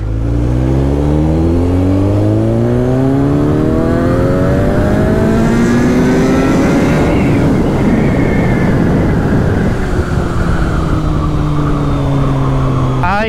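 A motorbike accelerates hard onto an open highway after crawling through city traffic, its loud, close engine note climbing in rising harmonic sweeps through successive gears, continuous with no talk.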